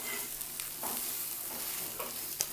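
Egg dosa frying on a hot pan after being flipped, a steady soft sizzle with faint crackles and a few light scraping ticks, close and alone with no talk.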